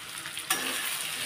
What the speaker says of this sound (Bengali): আমি এই সময় হলুদটা তেলের উপর দিয়ে দিচ্ছি, তাহলে হলুদটা তেলে ভাজা হয়ে যাবে